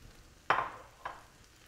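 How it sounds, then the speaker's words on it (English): A taco seasoning and salsa mixture stirred in a pan, two short wet scraping swishes about half a second apart, close and moderately loud over a quiet background. "And then you want to give this a really good stir."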